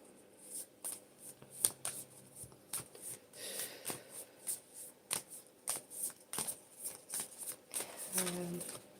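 A deck of cards is shuffled close by with quick crisp riffles and snapping taps, then a longer rippling riffle near the end, with someone speaking over the handling.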